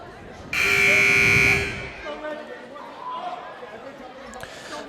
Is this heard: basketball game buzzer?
yes